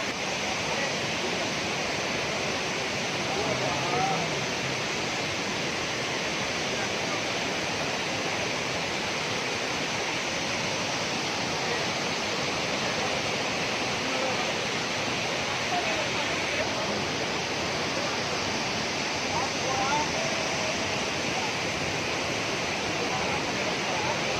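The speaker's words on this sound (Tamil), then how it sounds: "இயற்கையான நேச்சுரல் மழை தண்ணி தான் வந்துகிட்டு இருக்கு" Natural rainwater stream flowing in the Vagamon hills of Kerala, a steady, dense rushing of water that holds evenly throughout, with faint voices now and then underneath.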